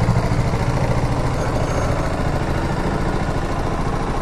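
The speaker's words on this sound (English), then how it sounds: "that is one cool motorcycle" A BMW G310GS motorcycle engine idles close by, a continuous low rumbling drone with no talking over it.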